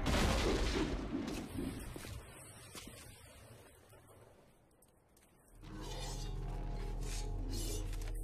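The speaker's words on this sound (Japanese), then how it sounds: "しょ っぱな事務所本体が壊れる悲劇。" Crashing, shattering destruction of an office building in Devil May Cry 3: a loud burst of breaking debris and booms fades over several seconds, then a steady low rumbling tone takes over.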